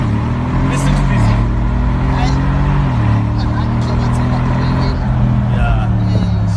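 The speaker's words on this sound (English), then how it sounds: "just listen to the sound of this. This is Mercedes-Benz G63 AMG." Mercedes-Benz G63 AMG engine rumbles loudly up close, with a deep idle that rises and falls through a few revs. People talk over it.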